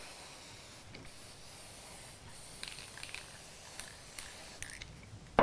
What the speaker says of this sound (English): So we'll spray.